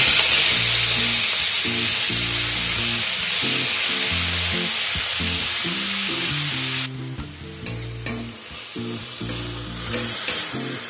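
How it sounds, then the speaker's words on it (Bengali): Fenugreek leaves sizzle loudly in a little hot oil in a kadai, a steady crackling hiss that quiets partway through, with a low rhythmic thumping under it. "এই কড়াইতে যে অল্প পরিমাণ তেল আছে এর মধ্যে আমি মেথি শাকগুলোকে একবার ভেজে নেব"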